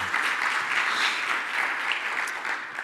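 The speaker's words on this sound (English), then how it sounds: "First off, a round of applause." Steady applause from a seated audience after a conference presentation on securities infrastructure, an even wash of clapping heard from within the room without talk.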